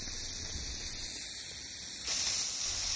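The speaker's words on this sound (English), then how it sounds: "all I'm doing is just literally spraying the de-icer spray on my windscreen." De-icer spray hisses steadily from a can onto a car windscreen, a continuous close spray that shifts slightly partway through.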